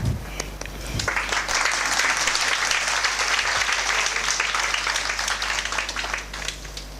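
An audience at a talk claps loudly and steadily, a dense continuous burst of many hands that starts abruptly after a low thump and holds for several seconds without talk.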